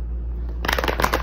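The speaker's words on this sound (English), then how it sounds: "So I'm gonna do one more shuffle" A deck of tarot cards is riffle-shuffled close up after a brief quiet moment, producing a rapid fluttering burst of card flicks.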